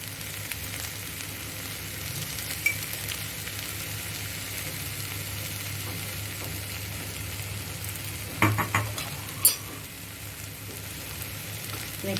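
Spiced boiled beans and chickpeas stirred in a pan with a spoon, a low steady cooking hiss underneath and a few sharp spoon scrapes and clinks near the end.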